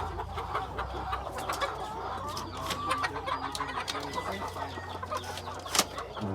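Egg-laying chickens cluck busily in a community livelihood poultry project, many overlapping clucks and squawks close by over steady background noise, with a louder call near the end.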